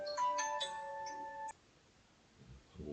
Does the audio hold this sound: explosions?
no